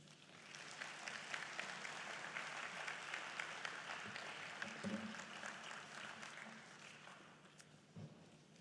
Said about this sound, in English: Once again, another round of applause for Professor Benedict Oramah, President and